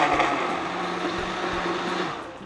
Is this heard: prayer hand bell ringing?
no